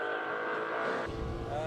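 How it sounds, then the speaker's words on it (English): A V8 classic race car engine howls loudly at a Cape Town speed event, its pitch dropping abruptly as it passes close by, with a deep rumble rising afterward. "Love the sound of the V8s."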